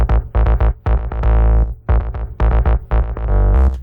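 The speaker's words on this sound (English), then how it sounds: "We have these basses. They sound like this." Bass lines in a music mix, including a Rickenbacker bass, playing a loud, continuous run of plucked notes with a steady rhythmic pulse and deep low end, alone with no talk.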